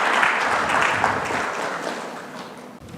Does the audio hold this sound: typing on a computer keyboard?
no